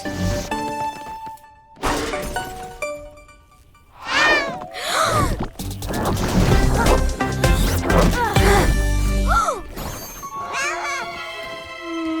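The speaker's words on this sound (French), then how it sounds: "ce mignon petit chat a un mignon petit collier, exactement comme Super Miaouteuse avait." A cartoon cat in an animated series, meowing alongside crashing, smashing effects and lively music, with characters talking over parts of it.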